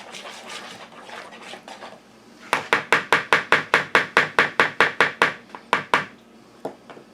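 A spoon stirs salt into banana bread batter in a bowl, first with light scraping, then a quick even run of about fifteen sharp clinks against the bowl, close and loud, before it slows and stops.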